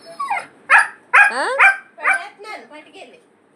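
A dog close by lets out a quick run of yipping barks and whiny, sliding yelps, loud and excited, as it fusses over food being given to dogs outside.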